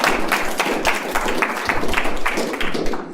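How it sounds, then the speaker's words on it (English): An audience at a talk about growing up in polygamy claps in sustained, dense applause with distinct individual claps standing out throughout. "Another round of applause for Shannon."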